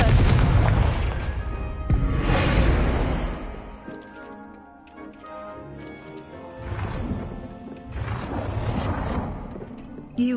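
Confringo fire spell explosions in Hogwarts Legacy on PS5: a few loud, booming blasts with crackling bursts, spaced several seconds apart over continuous game music and ambience.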